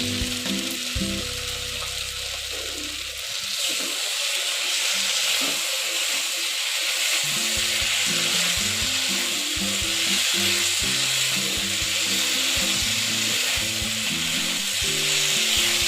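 Fried cauliflower sizzles loudly in sauces in a pan for chilli gobi, a continuous close hiss with stirring, alongside a steady low mechanical hum that shifts in pitch, and no voices.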